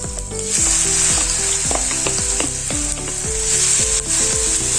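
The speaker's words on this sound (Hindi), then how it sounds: "आलू लच्छे तलने के लिए मैंने यहाँ पे घी जो है मीडियम गरम कर लिया है" Potato lachha fries in plenty of medium-hot ghee with a loud, dense, constant sizzle and occasional stirring scrapes, heard close up under background music.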